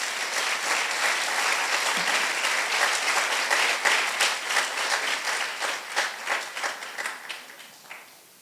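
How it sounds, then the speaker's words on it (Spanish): A church congregation applauds to welcome two women, a dense, steady wash of many hands clapping that holds strong for several seconds, then thins into scattered, separate claps before dying out. "Démosles un aplauso a ellas también"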